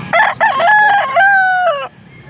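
A Milsim Black bull stag rooster crows once, loud and close, a strained two-part cock-a-doodle-doo lasting nearly two seconds, followed by faint background noise.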